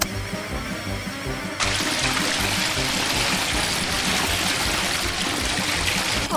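A LEGO wave machine's water pump starts up, a steady loud rush of flowing, churning water that begins abruptly after a quieter stretch and continues without a break.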